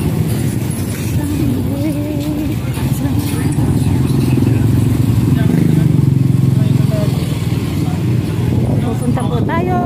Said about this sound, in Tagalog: Madaming sasakyan, madaming tricycle.